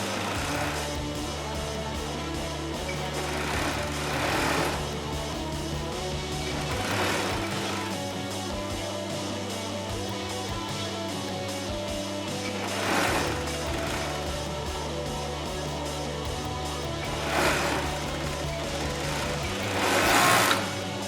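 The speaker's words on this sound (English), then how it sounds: "just serging that edge definitely helps when putting it onto the garment" A serger runs steadily along the raw edge of a crewneck sweatshirt, its fast motor whir and needle chatter continuous and close, with brief louder bursts as the fabric is guided through.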